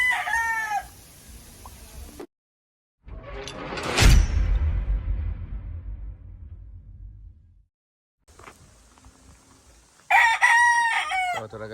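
Gamefowl roosters in a backyard breeding yard, including Hatch Grey and Gilmore Hatch, crow loudly nearby, one crow opening and another closing, with a sharp clatter and short silent gaps between.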